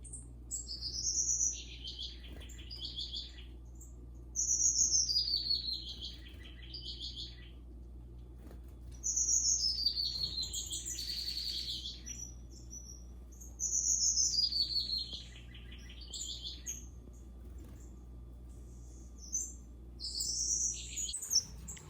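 Bursts of bright, high strawberry finch chirps come in repeated clusters every few seconds over a steady low hum, fairly close and clear.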